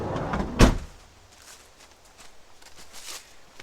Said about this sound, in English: I personally like to close that door and just basically leave it closed